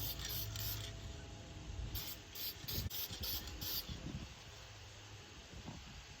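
Soft rapid spritzing bursts from a spray bottle misting a lacquered table top, repeated in quick succession over a steady rustling background, fairly close.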